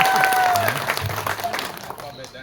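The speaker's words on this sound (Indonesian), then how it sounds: "Tepuk tangan untuk kita semua" Audience applause during a visit to the Ampah parish with a politician, a dense wash of clapping that fades over a couple of seconds, with voices talking over it.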